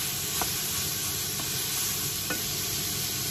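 Carrots, cabbage and bean sprouts fry for yakisoba with a loud, steady, close sizzle and hiss throughout, marked by a few soft stirring taps and no voices.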